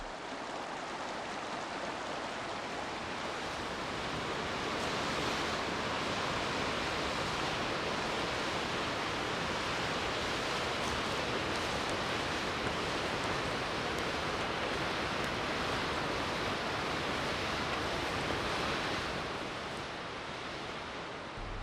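A waterfall pours down a ravine in remote Lakeland fells, giving a steady, dense roar of rushing water that holds even throughout with no voices over it.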